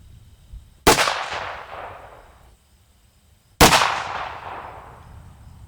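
Two sharp, loud gunshots spaced a few seconds apart, each ringing out with a long decaying echo, fired from a hand-made one-of-a-kind double barrel pistol.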